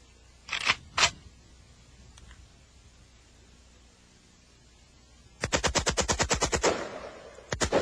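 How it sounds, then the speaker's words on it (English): An AK-47 fires on fully automatic: two loud single shots early on, then a rapid burst of about ten rounds in close succession and a final short burst, all near and sharp with no talk. "This is the fully automatic firearm. It's an AK-47."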